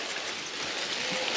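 Water spraying from a pump-fed shower head, a soft, even hiss of fine droplets that stays steady and fairly quiet throughout, with no voices.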